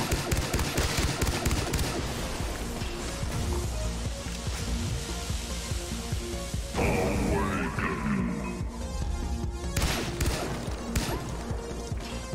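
Repeated pistol gunfire in Far Cry 3: Blood Dragon, a dense run of loud, sharp shots with heavy recoil, followed by a pause and another burst, heard up front.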